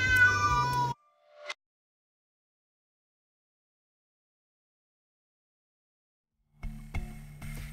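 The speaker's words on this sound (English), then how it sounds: "This is Riley the cat" A cat meows loudly at the start with a short second cry, then silence for several seconds before faint background noise resumes.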